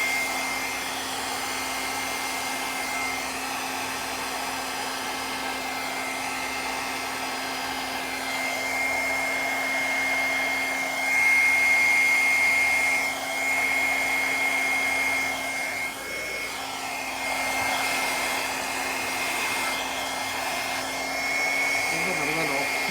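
Hair dryer blowing steadily over an acrylic paint pour, a constant whirring hum for the whole stretch, with faint talk now and then.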